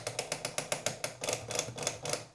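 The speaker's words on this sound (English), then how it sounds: "Hear this clicking?" A DJ mixer fader on a turntable setup clicks in a quick, even series of about a dozen sharp, close ticks, crisp and alone without any voice.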